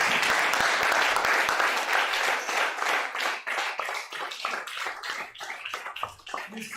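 Sustained applause from a large audience at an entrepreneurship event in Ilorin, Kwara State, steady and dense at first, then thinning into looser, more scattered claps toward the end.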